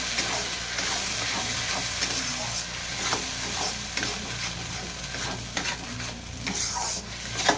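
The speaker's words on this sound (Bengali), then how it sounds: "ভেজে ভেজে কড়াইশুটির পুরটাকে" Green pea paste is stir-fried in a wok, with a steady sizzle and hiss under repeated scraping and stirring strokes of a spatula that come in irregular bursts.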